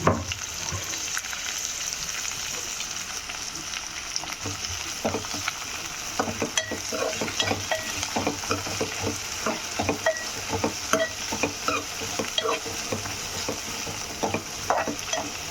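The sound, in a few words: beans frying and stirred in oil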